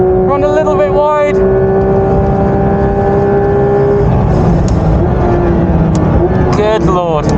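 A Porsche 992 GT3 RS driven flat out around Spa roars loudly from onboard, its engine note holding steady and then shifting pitch partway through, while someone talks over it.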